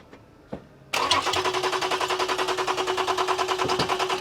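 A car engine cranks over on the starter during a crankshaft position sensor test, a loud, steady rhythmic chugging that starts abruptly after a couple of faint clicks and continues without catching for about three seconds.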